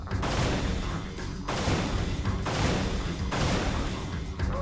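Repeated weapon shots from a normal gun in the game Unreal, a handful of booming, thudding blasts in a steady rhythm over a dense, loud game soundscape.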